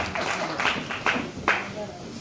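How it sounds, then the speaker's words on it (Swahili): An audience claps for officials at a Kenyan tree-planting gathering, a few louder individual claps standing out over a steady crowd murmur and some talk. "tuwapigie makofi"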